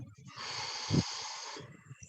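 A long, steady exhale during a school morning announcement breathing exercise, close and airy, stretching across most of the moment with a brief nasal puff in the middle and faint room noise around it.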